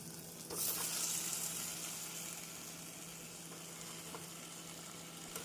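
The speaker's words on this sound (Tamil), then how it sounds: "கத்திரிக்காய் சேர்த்து மீடியம் ஃப்ளேமில் இரண்டு நிமிடம் மசாலாவுடன் நன்றாக வதக்க வேண்டும்" Eggplant sautéing with masala in a pan over a medium flame gives a steady, close sizzle and fry, with a brief louder burst of hissing near the start, then a constant crackle.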